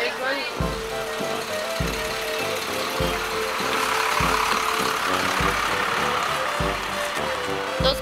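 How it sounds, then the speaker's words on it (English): Bus engines idle nearby with a rough, throbbing low rumble and periodic heavy pulses, while people talk over it on the way to a bowling alley. "Those bus engines are probably really loud in the video."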